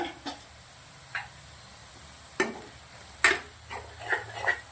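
Spices are stirred into a cooking pot over a faint low sizzle, with a spoon giving several separate scrapes and knocks against the pot at irregular intervals, fairly quiet and close.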